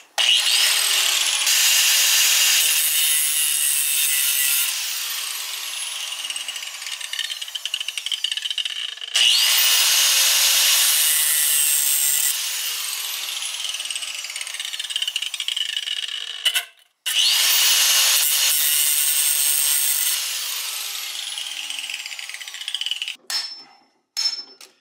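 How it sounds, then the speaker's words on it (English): A power tool cuts slots into metal parts from a Subaru EJ255 short block during a teardown, in three long, loud, harsh grinding passes with brief pauses between them and a few short bursts at the end. "So I'm gonna see if I can cut some slots into these bad boys"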